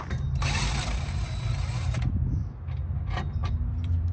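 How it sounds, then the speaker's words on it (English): Ratchet loosening 19 mm strut bolts on a Mitsubishi Evo X during subframe removal, a close run of mechanical clicking and grinding followed by softer intermittent clicks. "I'm gonna go ahead to remove these 2 bolts for the strut, and they're both 19."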